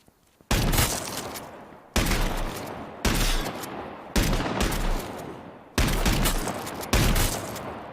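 Shotgun blasts in the survival game H1Z1, six loud, sharp shots spaced about a second apart, each with a decaying tail and no talk over them.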